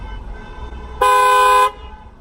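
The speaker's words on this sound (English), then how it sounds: "someone honked" A car horn gives one loud, steady honk of under a second, heard from inside a car over a low engine rumble.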